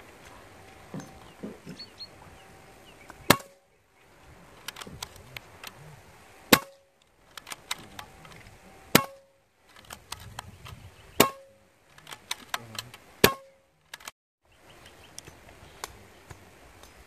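Hatsan AT44-10 5.5 mm air rifle fires JSB pellets, several sharp cracking shots spaced a second or two apart, each followed by brief clicks and mechanical handling noise.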